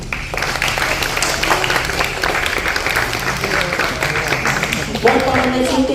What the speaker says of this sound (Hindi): सभी के लिए तालियां बजाएंगे